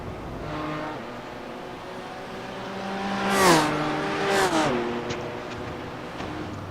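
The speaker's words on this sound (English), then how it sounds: "he's out here giving his run at the old BMW M4 here on the Indy Road" A BMW M4 GT4 race car laps the Indianapolis road course in a racing game, its engine note rising through the gears, briefly dropping on downshifts, and climbing again with a sharp whine near the middle.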